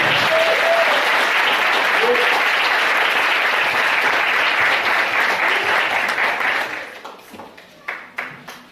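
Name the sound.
church congregation applauding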